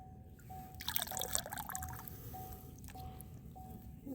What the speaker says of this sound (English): I will be watering my moss in the creek. Give it nice, fresh creek water.